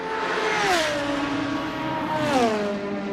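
GT race car engines in a virtual Bathurst endurance race in a racing video game, two loud passes of rising and falling engine whine sweeping by close, each swelling then dropping in pitch, with no talk.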